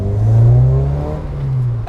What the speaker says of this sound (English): The engine, it's got a nice amount of pulling power to it.